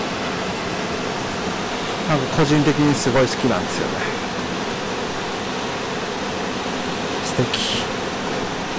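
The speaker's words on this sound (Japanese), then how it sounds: "これ龍神の滝か。" Steady broadband rush of the Ryujin waterfall, cascading into stepped plunge pools in Nishizawa Gorge, fills the whole stretch at a constant level, with someone talking briefly over it partway through.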